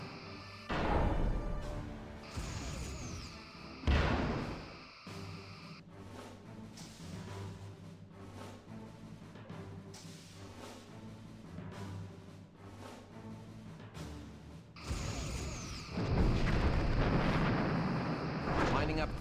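Energy weapon fire from starship phaser arrays in the Star Trek Bridge Commander space combat game: bursts and booming impacts over a continuous low engine-like drone and music, loud at the start and again near the end.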